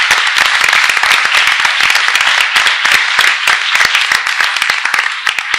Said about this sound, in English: let's have another round of applause for the students and staff that were recognized tonight